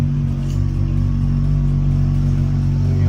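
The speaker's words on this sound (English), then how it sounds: "The vr6 sounds so good." A VR6-engined car pulls through the gears from the driver's seat, its deep engine drone loud and steady throughout with a rising, revving rumble.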